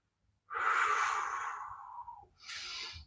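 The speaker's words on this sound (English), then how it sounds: "I'm breathing in as I relax and breathe out as I create that tension and that stretch" Breathing in and out during a bent-knee hamstring stretch in a home exercise session: one long, loud breath that fades out slowly, then a shorter second breath after a brief pause, heard alone and close.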